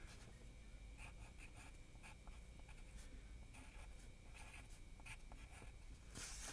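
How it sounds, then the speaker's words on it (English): Someone handwrites a name at the top of a page, soft close scratchy strokes of a pen or pencil coming in quick irregular bursts, quiet and without any talking. "I'm going to write my name."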